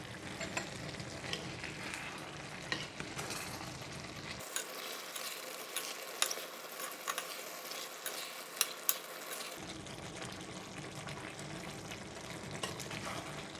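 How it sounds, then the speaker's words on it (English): Brinjal and minced pork boil vigorously in a clay pot, giving a steady, dense hiss and bubbling sizzle that stays close and continuous with no talk over it. "can you hear the sound? It's boiling vigorously in the clay pot."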